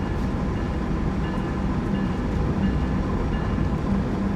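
Amtrak ACS-64 electric locomotive in Train Sim World 4 running at over 100 mph, a steady, loud rumbling drone of wheels on rail with faint rhythmic clacks throughout.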